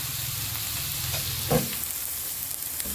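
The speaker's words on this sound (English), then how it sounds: "You fry the onion" Onions fry in a pan for mixed vegetables, giving a steady, close hiss of sizzling with a brief scrape of stirring midway and no voices.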